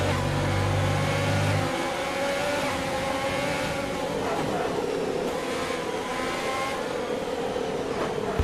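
A Formula 1 car in F1 2020 races at full throttle in heavy rain, its high engine drone holding steady and loud with a brief shift in pitch midway, alone and close.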